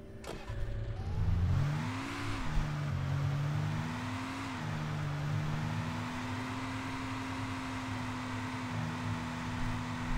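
A truck in Alan Wake Remastered drives with a steady mid-pitched engine hum whose pitch rises and dips as it moves, loud and continuous with no talk.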